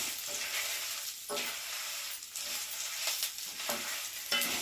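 Ginger, lentils and curry leaves frying in a pan for allam chutney, a bright, airy sizzle that swells with each stir of the spoon, fairly soft and close, without speech.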